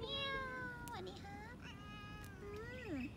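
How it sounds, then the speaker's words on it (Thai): A cat meows repeatedly at an ancient-city attraction in Thailand, several drawn-out cries with rising and falling pitch sounding close and clear over a steady outdoor background. "เป็นแมวที่นี่มากี่ปีแล้วครับ"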